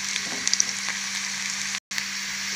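Tempering spices for an ivy gourd curry fry in hot oil with a steady, close sizzle and a few sharp pops, alone with no talking and a brief cut near the end.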